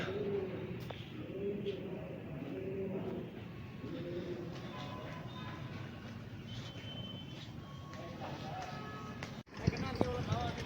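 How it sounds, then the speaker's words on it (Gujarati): Soft pigeon coos repeat in a steady rhythm at a hillside cave in Talaja, partly under a person talking, with a sharp knock near the end. "જુઓ કબૂતર"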